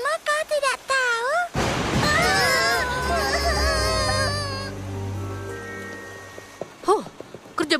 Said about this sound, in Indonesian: Hujannya semakin kencang, Apple Bloom.